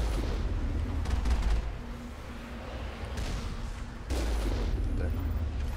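Repeated booming bursts of cannon fire in Mass Effect, heavy and low, with a loud blast near the start and another sustained burst later over a rumbling background.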